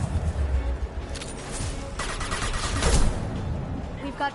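Gunfire in Mass Effect Legendary Edition, scattered shots and short bursts at moderate volume amid a busy combat mix, with a voice talking now and then.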